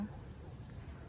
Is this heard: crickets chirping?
yes